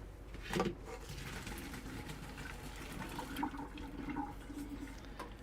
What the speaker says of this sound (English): And then our tapioca pearls, will drain those out in the sink.